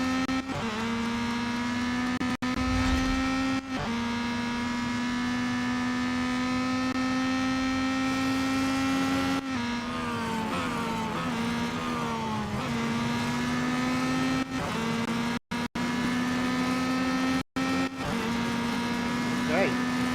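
Race cars in the Real Racing 3 mobile game hold a loud, sustained engine whine that shifts pitch with gear changes, with brief dropouts near the end.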